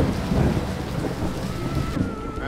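Heavy rain pours and thunder rumbles during a desert storm near Saguaro National Park on the Arizona Trail, a dense continuous roar of rainfall with deep rolling thunder underneath, loud and close.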